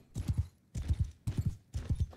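Cavalry hooves in the video game Mount and Blade Bannerlord, heard as four quick bursts of galloping clip-clop, each a tight cluster of thudding hoofbeats separated by brief gaps, fairly close and clear with no talk.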